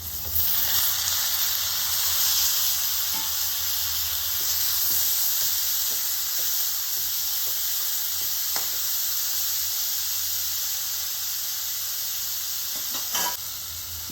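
Tomato pieces frying in a pan with green chillies for a bottle gourd and paneer curry, a loud continuous sizzle and hiss with scattered soft clicks of stirring, close and steady throughout.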